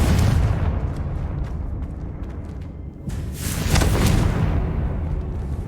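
Repeated Confringo fire-blast spell explosions in Hogwarts Legacy, loud booming bursts, one near the start and another heavier blast about midway, with crackling spell effects between.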